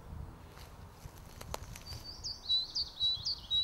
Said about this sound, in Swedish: talgoxens nedräkning att nu är det vår